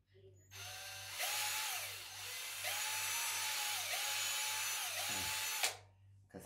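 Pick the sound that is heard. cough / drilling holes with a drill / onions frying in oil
drilling holes with a drill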